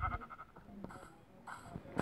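Short, faint bleats from video game sheep sound twice in quick succession, thin and somewhat synthetic, with low background noise.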